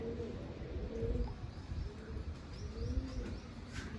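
Pigeons at a Punjabi loft coo in soft, repeated low throaty phrases, with a few faint chirps rising above a muffled, gently rumbling background.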